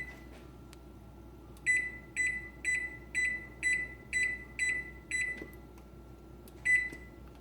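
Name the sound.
kitchen timer beeping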